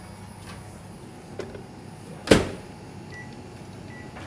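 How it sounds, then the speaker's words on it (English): A Wolf microwave oven warming chocolate gives a faint steady hum, a soft click, then one sharp loud door or latch clunk midway, followed by a quiet beep-like tone, close by with no talking. "It's the best way to warm chocolate, actually, is in a microwave"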